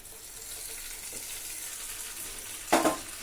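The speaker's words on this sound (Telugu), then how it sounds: "ఇప్పుడు ఈ పోపు అనేది చట్నీలో వేసేసుకుందాం" A hot tempering is tipped into chutney: a faint low hiss, then a sudden loud sizzling burst near the end that quickly fades.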